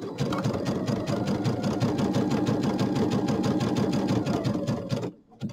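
Sewing machine zigzag stitching binding onto a project bag handle, a rapid steady mechanical rattle running loud and close for about five seconds before stopping.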